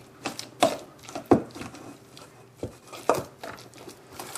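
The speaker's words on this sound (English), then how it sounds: "we're going to smush all this together. Mash all the yolks up." Hard-boiled egg yolks mashed with seasoning for deviled eggs, a series of irregular soft thuds and squelchy taps from a utensil against a bowl, close and fairly quiet with gaps between strokes.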